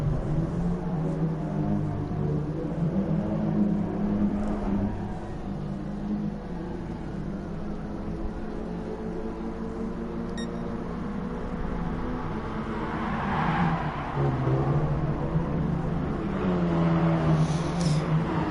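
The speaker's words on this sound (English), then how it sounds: "So the cars head onto the track then." Ford Focus race cars in a racing video game roll onto the Fuji circuit for qualifying, a steady blended engine drone that holds throughout with a slight swell of revving near the end.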